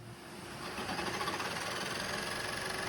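A saber saw cuts out a boat mold station, giving a steady, loud, rapid buzzing drone that builds up over the first second and then runs continuously.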